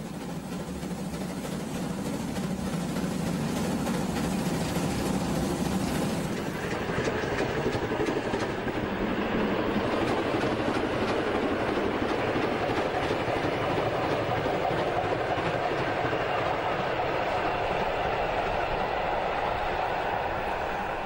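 Bundesbahn class 23 steam locomotive, a light 2-6-2 passenger engine built by Henschel in Kassel, rumbling past with a steady roar of running gear and exhaust, loud and close for about twenty seconds, no voices.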